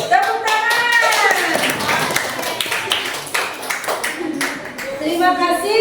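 A classroom of students bursts into brisk group clapping that fades out, with a voice speaking partway through before the clapping picks up again at the end.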